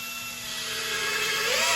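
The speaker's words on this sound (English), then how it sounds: "we'll just see how far this will drive this 5-inch structural screw in speed 2." A Hilti SFE 2-A12 drill/driver set to speed 2 drives a 5-inch structural screw, giving a loud, steady motor whine close by that slowly climbs in pitch and strain.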